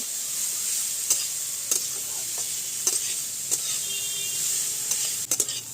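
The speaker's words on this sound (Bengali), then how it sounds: "গাজরটা একটু ভাজা ভাজা করে নেব" Grated carrots fry in a pan with a constant soft sizzle, punctuated by several sharp scraping clinks as a spoon stirs them at uneven intervals.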